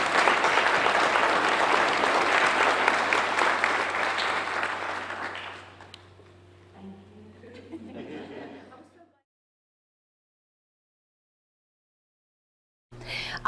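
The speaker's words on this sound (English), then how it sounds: "Let's all give Donna a big round of applause" Loud, dense audience applause at the Alamance Community College Celebration of Excellence 2021 awards ceremony rolls for several seconds with a few chuckles, then tapers off into silence before a brief burst of sound at the end.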